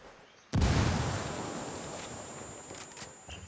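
A frag grenade detonates in the video game Ghost Recon Wildlands with one sudden, loud, deep boom, and a long rumbling tail fades slowly afterward, without any talk.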